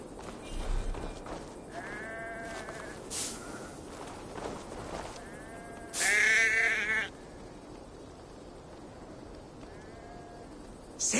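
Sheep in a video game bleating several times, separate wavering calls spread across a quiet ambient background with occasional soft footsteps or shuffles between them.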